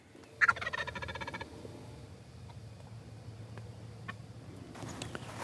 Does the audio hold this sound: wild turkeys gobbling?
yes